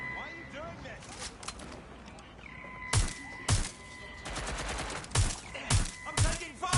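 Bursts of gunfire in the Watch Dogs Legion video game: repeated loud volleys of shots with short gaps between them, close and sharp, over steady game ambience, with no speech.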